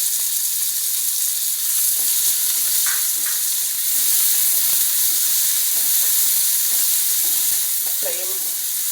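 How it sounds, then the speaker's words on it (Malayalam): Chopped onions frying in oil in a pan for a mixed vegetable soup give a loud, steady, close sizzle and hiss, with faint scraping underneath and no talk. "അപ്പം അതിലേക്ക് നമ്മൾ അരിഞ്ഞു വെച്ചിരിക്കുന്ന സവോള ഇട്ട് കൊടുക്കാം."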